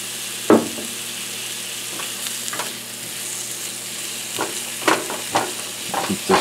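Pink oyster mushrooms sauté in olive oil with a continuous sizzle, broken by occasional stirring scrapes and soft clacks of a utensil in the pan.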